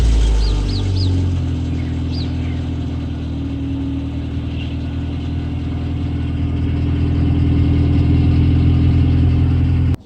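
A 1989 Honda Civic EF with a cast iron header, straight pipe exhaust and dual tip muffler runs steadily with a loud, deep, continuous drone, close by, with a few faint bird chirps early on.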